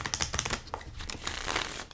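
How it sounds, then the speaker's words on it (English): A tarot card deck is shuffled by hand, a rapid crisp riffle of flicking card edges, close and fairly loud, running continuously for a couple of seconds. "really easy to shuffle"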